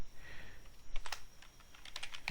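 Code being typed on a computer keyboard for a MySQL insert: quiet, irregular key clicks in small clusters, fairly close, with no talk.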